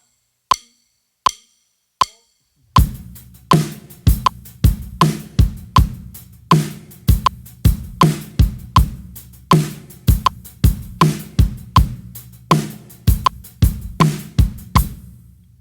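Country drum groove at 80 BPM: after a few count-in clicks, kick and snare enter under a steady sixteenth-note hi-hat, dense and even, close and loud with no talking.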